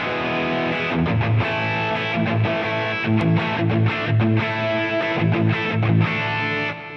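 Distorted electric guitar through an Axe-FX amp model with a compressor on, playing rhythmic chords and palm-muted chugs, evenly compressed and sustained, loud and close.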